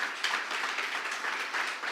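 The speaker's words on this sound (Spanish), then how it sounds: "¿Cuántos pueden dar un aplauso a la palabra del Señor?" A church congregation applauds during a Sunday morning service, a steady wash of many hands clapping at moderate level for the full two seconds with no talk over it.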